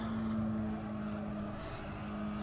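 A race car engine in Gran Turismo holds a steady high drone at speed, loud and continuous with slight shifts in pitch and no talking.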